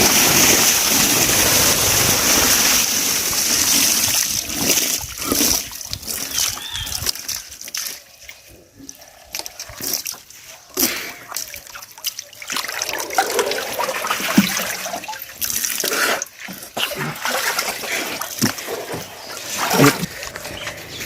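Water overflows and splashes out of a drum filled to the brim as a person climbs inside, with a steady loud rush and trickle that later breaks into sloshing and dripping.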